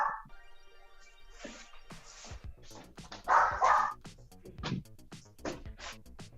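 A dog barks and yips repeatedly in short, irregular bursts, fairly close and loud, with no talk over it.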